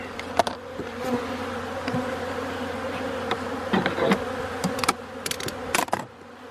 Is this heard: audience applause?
no